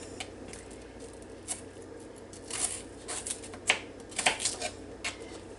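A knife chopping celery into small pieces on a cutting board, making quiet, irregular clicks and taps over a faint steady background hum, with no talk.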